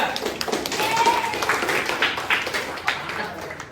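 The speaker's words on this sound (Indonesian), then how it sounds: "Sebelumnya tepuk tangan dulu buat kelompok 3." Students in a classroom clap for group 3, producing a short burst of scattered, uneven hand claps close by, with a few voices murmuring underneath.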